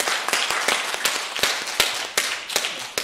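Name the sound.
applause for God in church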